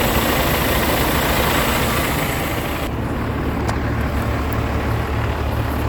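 A broken-down truck engine, just refilled with antifreeze after a broken coolant line was spliced, idles with a loud, steady low rumble on a late night at twenty below zero.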